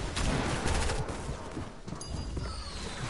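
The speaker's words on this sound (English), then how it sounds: "Everybody's shooting me down, like... Can y'all stop shooting me down?" Gunfire in a video game as players shoot, a dense rapid volley of shots that is loudest early on and then thins to scattered, quieter cracks.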